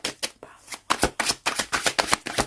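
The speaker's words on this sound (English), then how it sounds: "I myself am one of those people who likes to shuffle on camera" A deck of tarot cards is shuffled by hand at close range, with a brief pause early on and then a quick run of crisp, rhythmic riffling bursts.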